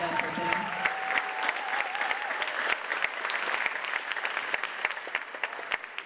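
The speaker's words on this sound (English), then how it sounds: "Please clap it up for them." Applause from an audience at an 8th grade bridging ceremony, with crisp, distinct claps at steady volume and a short spoken voice over the opening moments.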